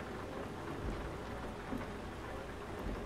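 Rain in American Truck Simulator pours in through an open truck window as a steady, dense hiss with a low rumbling undertone, continuous throughout.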